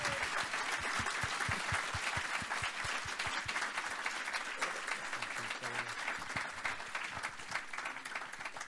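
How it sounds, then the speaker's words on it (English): Steady applause from a conference audience for Commissioner McGuinness at a corporate reporting event. A full crowd claps at an even level, with a few close, sharp claps standing out near the start, and it carries on without talk. "a big applause for Commissioner McGuinness"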